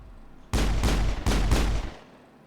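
Pistol shots from the Mass Effect video game ring out in two close pairs, four loud cracks with short echoing tails, then fade to quiet.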